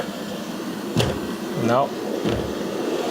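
A robot vacuum cleaner runs with a steady broadband whir. A few soft knocks and a brief squeaky rising-and-falling whine cut through it, and no one speaks.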